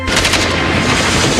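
Machine gun fire from a war film soundtrack, a dense loud burst of rapid shots and booms packed into a short moment, with no talk over it.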